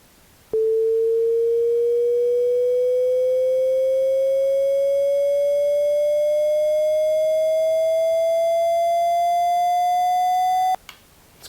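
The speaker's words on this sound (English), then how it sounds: "you will hear that the frequency will gradually increase, but it won't necessarily still sound like a sine wave." A pure sine tone generated by Bela audio code glides steadily upward in pitch for about ten seconds, gaining a buzzy distorted edge as it climbs before cutting off abruptly.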